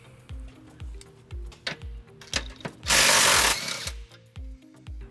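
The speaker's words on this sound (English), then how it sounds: "on the driver's side, we're going to remove this bolt on the bottom of the frame rail. We're going to use an 18mm socket." An 18mm socket on a ratchet wrench removes a bolt from the bottom of the driver's side frame rail of a 2009 Dodge Nitro, giving a rapid series of close, sharp ratcheting clicks with a brief louder rushing burst midway.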